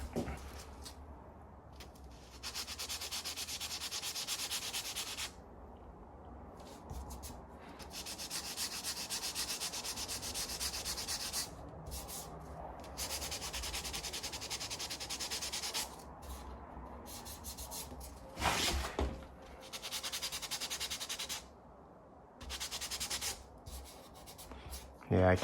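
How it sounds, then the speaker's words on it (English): A surfboard tail repair is lightly sanded by hand with 220-grit paper, heard as soft rhythmic scratchy strokes in bursts separated by brief pauses, close and fairly quiet, with a couple of louder knocks. "Very light sanding."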